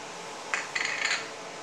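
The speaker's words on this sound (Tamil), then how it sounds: "கடுகும் ஜீரகம் போடுறேன்." Mustard and cumin seeds go into lightly heated oil in a pan for radish sambar, giving a few quick, light clinks and a brief patter over a quiet background hiss.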